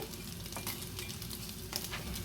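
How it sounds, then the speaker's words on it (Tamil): Homemade paneer cubes roasting in a pan for kadai paneer, a low steady sizzle with soft scraping stirs and a small clink at the end, no voices. "நான் வீட்டில் செய்த பன்னீர் நல்லா ரோஸ்ட் ஆகி வந்துட்டுது"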